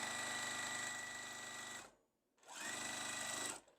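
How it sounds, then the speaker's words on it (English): A sewing machine stitches a diagonal quilt seam corner to corner on a Mi Casa sampler quilt block. Two close, steady runs of rapid mechanical chatter are split by a brief pause. "I'm going to sew from the upper right corner to the bottom left corner"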